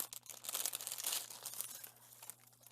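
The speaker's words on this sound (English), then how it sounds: "sorry for the crinkling" Close, continuous crinkling and rustling of plastic packaging on small Dollar Tree items being handled and opened, fairly quiet, with no talk.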